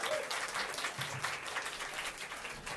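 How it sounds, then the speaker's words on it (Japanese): An audience at a Japanese big-band jazz orchestra concert applauds the saxophone section with dense, steady clapping from many hands that stays even throughout, heard from within the room at moderate level. "そして素晴らしいサクソフォンセクションに大きな拍手"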